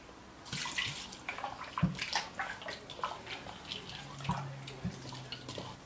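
Vinegar is poured while fish with sorrel is prepared, giving faint, splashy bursts of liquid with scattered drips and small kitchen clatters, quiet and close, with no talking.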